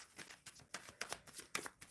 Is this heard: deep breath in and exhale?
no